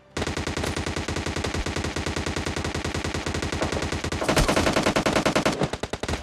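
Automatic gunfire in PUBG Mobile Lite rattles in long, rapid, evenly spaced bursts, loud and close, with a denser volley near the end and brief trailing shots.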